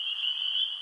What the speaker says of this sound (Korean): 어둑어둑해진 숲길 사이로 요란한 개구리의 울음소리가 들려왔지요